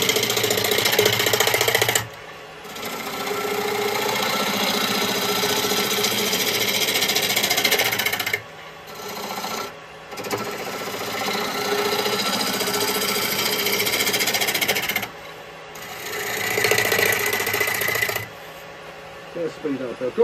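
Ash wood turning on a lathe with a round chisel, a loud continuous grinding, chattering cut with a steady motor hum, broken by brief pauses near 2, 8.5–10 and 15 seconds.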